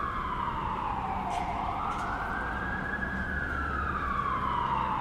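Emergency sirens sound on a downtown Toronto street at night, one slow rising-and-falling wail riding over constant traffic noise, loud and near, with no voices.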